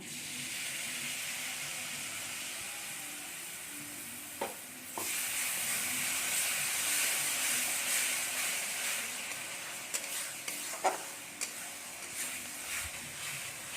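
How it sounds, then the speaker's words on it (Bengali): Rice fries in a pan with palm fruit pulp, giving a continuous soft sizzle broken by occasional scraping and tapping as it is stirred, with no one talking. "এবার আমরা চালটাকে একটু ভালো করে ভেজে নেব"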